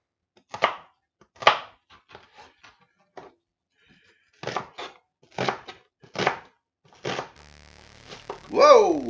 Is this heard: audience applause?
no